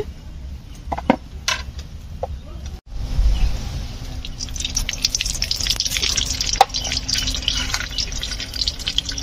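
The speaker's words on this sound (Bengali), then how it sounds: "এবার কড়াইতে তেল দেবো বেগুনটা ভাজার জন্য।" Cooking oil is poured into a wok to fry eggplant, just after hilsa fish has been fried in the same kitchen. After a brief pause, a steady trickling, dripping flow of liquid runs on close by, with a faint sizzle.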